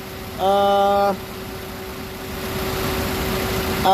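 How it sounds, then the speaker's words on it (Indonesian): A 2013 Daihatsu Terios 1.5 TX with a manual gearbox idles in a steady, even low hum that runs the whole time, with a short bright electronic beep near the start and the background noise swelling slightly toward the end. "Pastikan bahwa suara mesinnya itu halus."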